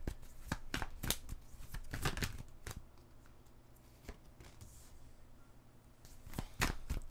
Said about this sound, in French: les cartes se retournent